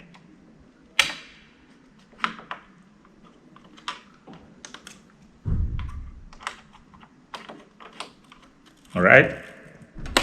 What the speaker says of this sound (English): I'm going to push it down. Hear that clipping sound.